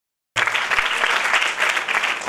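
A church congregation at a revival meeting claps together in dense, steady applause that starts abruptly and holds loud and even to the end, with no voices above it.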